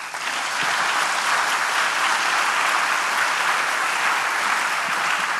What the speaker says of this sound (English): Dalila and Slaven, again, a round of applause to them.